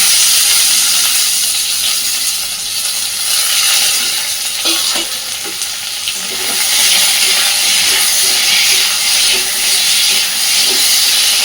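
Chopped tomato, slit green chilies and onion hit a pan of frying potatoes with a loud, steady sizzle and steamy hiss, stirred with soft scraping and light utensil clicks, close and without speech.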